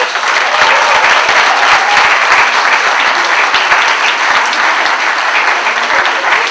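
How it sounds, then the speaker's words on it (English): A large audience at a college annual day ceremony gives a sustained, loud round of applause, many hands clapping in a continuous dense roar with faint crowd murmur beneath. "a big round of applause for"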